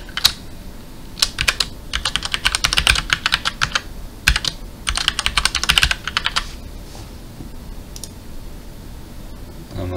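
Rapid bursts of keystrokes on a computer keyboard as a password is entered, close and crisp, coming in several quick runs separated by short pauses with a few isolated clicks toward the end.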